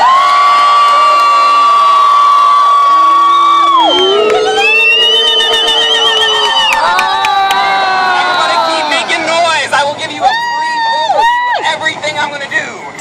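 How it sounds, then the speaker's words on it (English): Busker's street-show audience at a busker festival erupts in loud, sustained cheering, whooping and shouting, with high yells and screams rising and falling continuously across the crowd. "I need y'all to make as much noise as possible to draw a bigger crowd"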